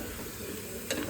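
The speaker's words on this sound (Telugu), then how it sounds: "ఇంకొకసారి కలిపేసుకుందాం" A mutton mixture is stirred as it fries in a pan, giving a short steady sizzle with a scraping stir near the end, close and moderately loud.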